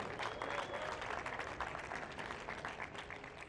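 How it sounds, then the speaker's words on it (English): An awards-ceremony audience at the Globe Soccer Awards applauds steadily for two football stars, a dense, fairly quiet spread of clapping heard from a distance with no speech over it. "Big round of applause for Mr. Robert Lewandowski and Kylian Mbappe."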